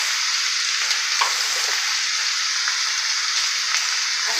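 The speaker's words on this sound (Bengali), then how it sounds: "এগুলো দিয়ে আমি ভালো করে নেড়ে নেব" Beef tripe with turmeric and chilli powder frying loudly in a pan, with a dense, steady hiss, close up and continuous, and faint stirring scrapes underneath.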